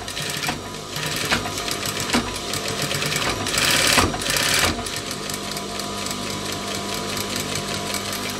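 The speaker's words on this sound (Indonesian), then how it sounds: "Kita jahit kurang lebih setengah senti sampai ke bagian ujung ya." A sewing machine stitches the back pocket of baggy trousers, running in a steady, close, continuous whir with brief pauses and a louder burst near the middle; no one speaks.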